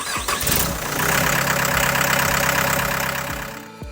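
Diesel 69-horsepower engine of a Mule 9069 shed mover cranks and catches, then settles into a loud, steady close-up idle with rumbling knocks before cutting off near the end.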